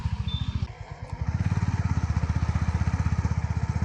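A Honda H'ness CB350 motorcycle is ridden on the road, its single-cylinder engine giving a loud, close, steady thumping beat after a brief dip, with even pulses and no talking.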